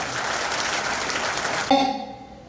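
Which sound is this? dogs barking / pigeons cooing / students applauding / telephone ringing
students applauding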